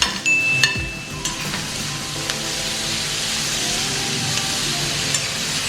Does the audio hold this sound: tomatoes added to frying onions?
yes